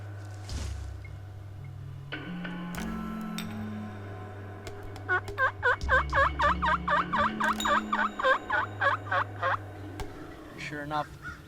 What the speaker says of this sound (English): the toms come in just running and gobbling at the same time when they're running